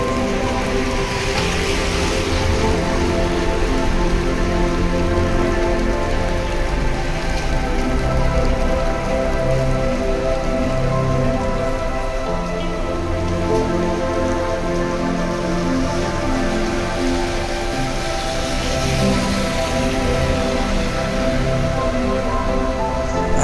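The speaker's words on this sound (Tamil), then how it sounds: "ஆக்சுவலாக இன்றைக்கி நான் எதிர்பார்க்கவே இல்லை இந்த மாதிரி மழை பெய்யுன்னு" Heavy rain pours down in Qatar, a dense, loud and unbroken hiss of drops pattering on surfaces that lasts the whole stretch with no pauses.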